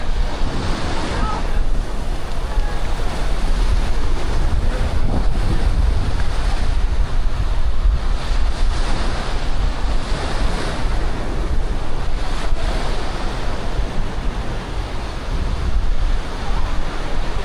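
Wind and surf on a beach at Playa del Carmen, with steady roaring waves and heavy wind buffeting the microphone throughout, loud and continuous with no talk.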